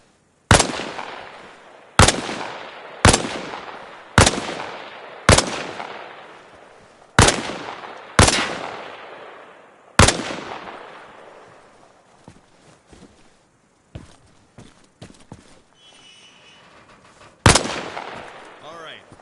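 Video game gunfire: loud single shots fired about once every second or two, each with a decaying echo, then a quiet stretch with faint clicks, and one final shot.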